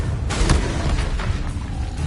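A Confringo fire spell in Hogwarts Legacy detonates in a loud, dense burst, with a sharp crack followed by a rumbling low-end blast and several smaller pops trailing over two seconds.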